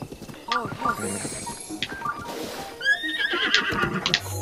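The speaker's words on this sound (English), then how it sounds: "I shall tame this horse." A horse in Zelda Breath of the Wild whinnies loudly several times, the calls spaced apart, with hoofbeat clip-clops and game effects between them.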